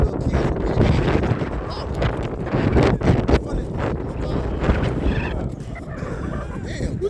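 Wind gusting hard against a microphone outdoors at a street ministry gathering, a continuous heavy rumble that swells and dips throughout, with voices faintly beneath.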